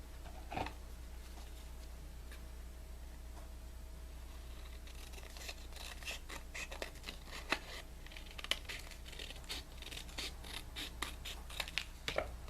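Scissors cut the top off a paper strip for a mini album, giving a series of quiet, close snips and paper crinkles over a low steady hum, denser in the second half, with no talking.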